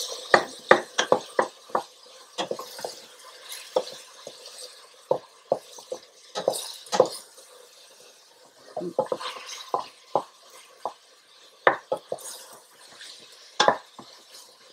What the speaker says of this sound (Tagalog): So, gisa-gisa lang yan